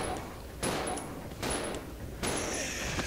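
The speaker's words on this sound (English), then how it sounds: "Billy could shoot his weapon a lot quicker than Rebecca" Rapid bursts of gunfire from Billy's weapon in Resident Evil Zero, three loud broadband blasts spaced under a second apart, each followed by a brief ringing decay, with no talk over them.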